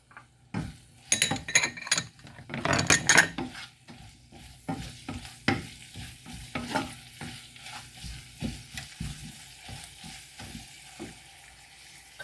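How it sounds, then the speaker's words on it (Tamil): Onions and curry leaves frying in a pan for an eggplant and chickpea curry, with a steady sizzle broken by frequent scraping stirs and clinks of a spoon against the pan, close and fairly loud. "இந்த வெங்காயத்தோடு சேர்ந்து பொரியட்டும்"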